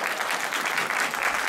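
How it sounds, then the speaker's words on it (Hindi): An audience at a Dussehra festival skit in Geoje, Korea, breaks into continuous hand clapping, an even crackle of applause at moderate level with no speech over it. "मत बजाओ ताली"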